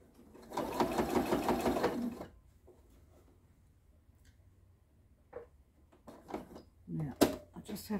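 A sewing machine runs in one steady burst of rapid stitching while binding an oven mitt, then stops, followed by quiet handling clicks and soft fabric movement nearby.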